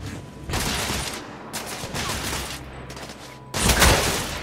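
Gunfire from The Order: 1886 shooter video game crackles in several dense bursts of rapid shots, loud and close, separated by short quieter gaps.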